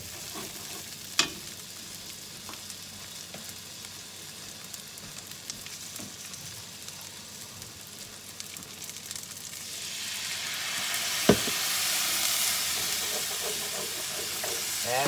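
Onions sizzle and fry in the bottom of a crock pot alongside browned cube steak, a steady close crackle with a couple of sharp clinks and a surge of hiss toward the end, no talking.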